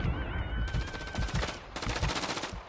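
A close, loud automatic weapon fires in dense rapid bursts during a Call of Duty: Modern Warfare III multiplayer match on the Tokyo map.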